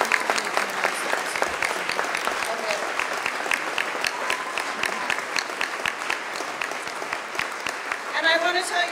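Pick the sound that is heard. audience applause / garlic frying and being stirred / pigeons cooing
audience applause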